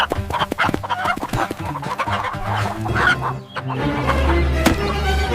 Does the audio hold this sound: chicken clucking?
yes